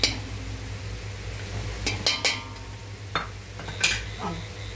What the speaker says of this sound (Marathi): तर आता हे फक्त मिक्स करून घ्यायचं.